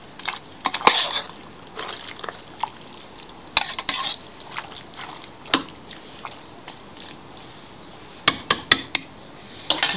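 A spoon stirs peas and carrots in tomato sauce in a cooking pot, with wet sloshing and sharp metallic clinks and scrapes against the pot's sides, loud and close and arriving in irregular bursts.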